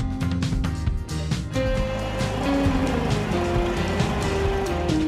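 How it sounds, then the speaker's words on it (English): A crane truck's engine drones continuously, loud and close, a steady rumbling mechanical hum with slight shifts in pitch as it works. "Six, the crane truck"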